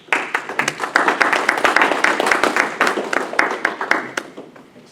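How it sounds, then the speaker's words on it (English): Meetup audience applauding at the end of a talk on streaming distributed processing, a room of individually distinct claps that builds quickly, holds steady, then thins out toward the end. "Let's give Brendan a round of applause."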